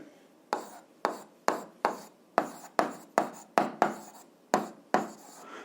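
Pen writing on paper during an 8th-grade physics exercise, a series of about a dozen crisp scratchy strokes in an uneven rhythm, close and clear with no talking.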